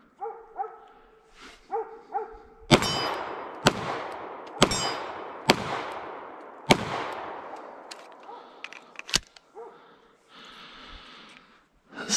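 An FN 509 Tactical pistol is fired outdoors: about six loud, sharp reports at uneven intervals, each with a ringing metallic tail, after a few barks from a dog early on.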